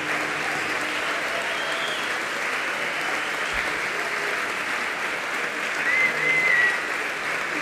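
Sustained applause from a concert audience at a music performance, a steady dense wash of clapping that holds at an even level throughout, loud and close, with no voices standing out.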